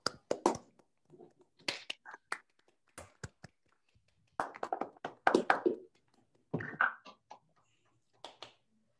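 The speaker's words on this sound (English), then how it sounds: "Please unmute yourselves and clap." Scattered clapping from an online audience unmuting after a mathematics talk. Separate bursts of claps and taps come from different microphones, arriving in uneven clusters with silent gaps between them.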